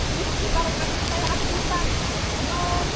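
A tall waterfall in a karst forest in Kayan Mentarang National Park, a steady, dense roar of falling water, even and unbroken.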